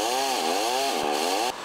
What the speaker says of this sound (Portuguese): Bombeiros usaram uma motosserra para cortar os galhos e liberar o trecho.